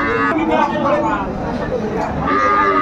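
Sahiwal cattle low loudly at a farm in Habiganj, with a drawn-out moo close by while people talk over and around it.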